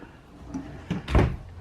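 A short wooden sliding thud as a large drawer in a 2020 Outdoors RV 24RKS travel trailer is pulled and pushed, with a couple of quick knocks close by.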